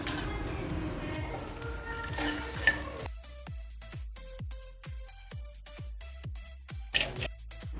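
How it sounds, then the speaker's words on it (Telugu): Sesame seeds, peanuts and dry coconut dry-frying in a pan, a busy crackling sizzle that gives way to sharp rhythmic scraping and clinking strokes of a spatula against the metal, close by and without talk. "దీంట్లో వట్టి కొబ్బరి వేసుకొని బాగా ఫ్రై చేసేసుకోవాలి."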